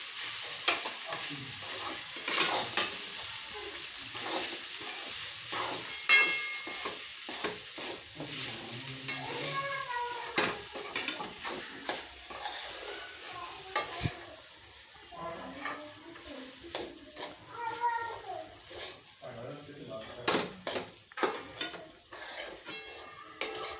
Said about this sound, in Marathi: हळद घालूया थोडी परतून घ्यायचे